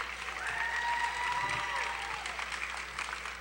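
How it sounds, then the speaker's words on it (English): An audience at the 2011 Lady of the Bracelet Pageant applauds steadily throughout, a dense wash of clapping with a few whistles or cheers rising above it, without a clear break. "Let's give them a round of applause for doing such a fantastic job all night"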